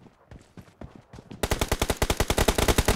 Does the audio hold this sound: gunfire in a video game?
yes